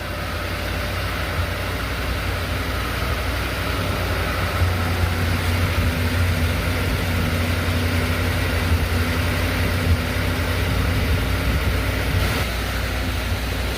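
A van engine idles roughly in a steady, droning rumble, close and unbroken with a slightly uneven low throb and no talking.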